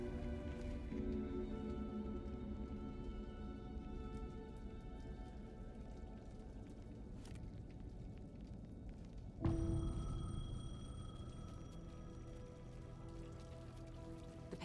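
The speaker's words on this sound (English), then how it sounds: "The payphone was ringing." A payphone rings in the video game Alan Wake 2, a repeating electronic bell over steady rain patter, with a sudden louder burst of ambience partway through and no speech.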